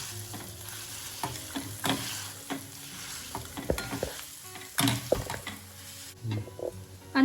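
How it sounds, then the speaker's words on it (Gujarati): Bread patty masala being mashed with a masher in a pan, giving repeated soft thumps and scraping strokes that come in an uneven rhythm over a light sizzle. The sound is close and fairly quiet, and no one speaks. "અને હવે આપણે આ રીતે મેસરથી મેશ કરી લઈશું."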